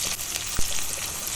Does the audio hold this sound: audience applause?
no